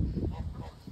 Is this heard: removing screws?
no